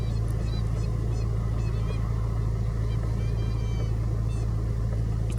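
Wild geese honk faintly and intermittently at a lake, their calls thin and distant beneath a steady, loud low rumble.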